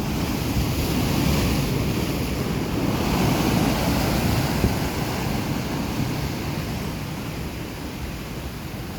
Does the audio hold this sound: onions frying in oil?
no